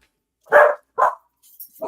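Dogs bark nearby, with two loud, clear barks followed by a few fainter, shorter yips.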